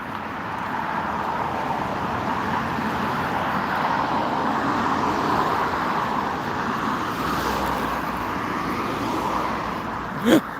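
Car traffic passes along a road in Sweden in autumn, a continuous broadband wash of tyre and engine noise, moderately loud and fairly even, with a short sharp knock near the end.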